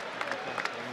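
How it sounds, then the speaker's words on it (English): Rugby teams from Argentina and Namibia at the 2015 Rugby World Cup clap each other off through a tunnel, a brief steady patter of applause from many hands with crowd murmur behind. "Opposition teams forming a tunnel, clapping each other off"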